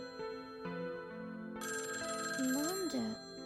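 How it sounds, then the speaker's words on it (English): A phone rings inside a classroom in the video game Tokyo Babel, a bright electronic ringtone that repeats in melodic bursts at close range, with a gliding vocal-like tone near the end. "This was a classroom, so why would I be hearing a ringing sound in here?"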